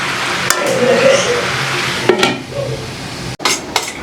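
Bottle gourd curry with fish heads being sautéed in a pan, loud close sizzling under steady stirring with spoon scrapes and metallic clinks against the pot.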